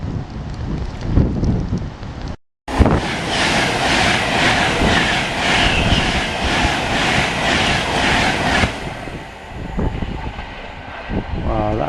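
A Virgin passenger train rushes past a freight train held in a siding, a loud, steady roar with rhythmic clatter lasting several seconds before fading, heard from inside the waiting train.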